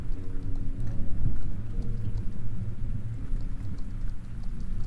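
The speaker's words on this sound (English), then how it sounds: "That's the storm outside my window right now." A steady low rumble of a thunderstorm with continuous rain hiss, heard from indoors through a window at a moderate level with no voices.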